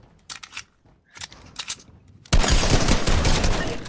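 Video game gunfire: a few short clattering bursts, then a loud sustained barrage of rapid shots that fills the rest of the moment.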